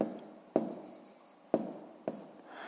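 A pen writes on paper in a quiet room, with a few sharp taps or strokes set against soft, steady scratching during a sixth-grade maths exercise.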